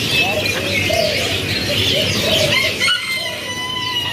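Dense chorus of canaries chirping and trilling at a bird kiosk in Bandung, Indonesia, a mixed group of males and females singing continuously and loudly, with a person talking faintly underneath.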